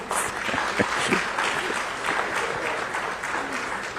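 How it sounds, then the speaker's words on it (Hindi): Audience applause fills a Coast Guard ceremony where women are seated in the crowd, marking a pollution control vessel joining the fleet; steady clapping from many hands sustains for several seconds, fairly close and full. "कम से कम तालियां उनकी तरफ से तो होनी चाहिए"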